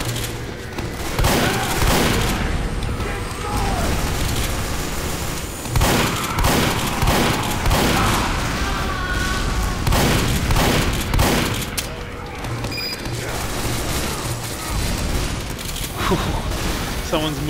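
A Team Fortress 2 match on the Sawmill and Turbine maps crackles with repeated loud gunshots and critical hits, punctuated by booming blasts across a dense, constant barrage, with speech underneath.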